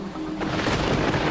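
A thunderstorm squall at sea near an offshore oil rig, heard as a short burst of rumbling thunder with rain and wind noise building loudly.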